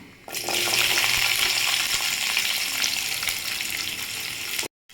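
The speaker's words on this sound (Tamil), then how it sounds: "நம்ம சின்ன வெங்காயத்தை சேர்த்து நல்லா வதக்கிக்கலாம்" Small shallots sauté in a pan with fennel and cumin for a village-style chicken chukka, a loud, close, continuous frying sizzle with faint stirring that runs until it cuts off abruptly just before the end.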